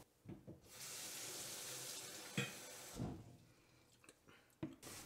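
Tap water runs into a glass or glass bowl to hold coriander stems, a steady close splashing stream lasting a couple of seconds, stopping, then resuming briefly, with small clinks of handling around it.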